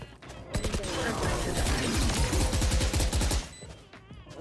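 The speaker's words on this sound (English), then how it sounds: "lower down that gun volume" Rapid bursts of gunfire from an online shooter game, dense and continuous for several seconds, loud and fairly close, with a short pause near the end before more shots.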